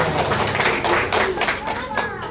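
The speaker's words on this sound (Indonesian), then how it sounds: "tepuk tangan" A church gathering claps in brief, uneven bursts of handclaps close by, mixed with overlapping voices and some chatter.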